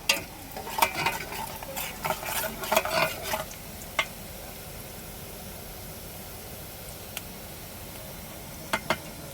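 Leftover roti being tempered in a pan with onion, a flurry of quick spatula scrapes and clinks at the start, then a steady soft sizzle with a few isolated taps later on.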